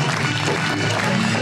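A studio audience at an Eid special broadcast welcomes a guest with dense, steady applause, loud and continuous throughout with no clear voices above it.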